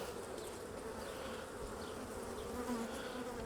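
A steady, low buzz from honeybees humming together in a hive, continuous and fairly quiet, with no voices.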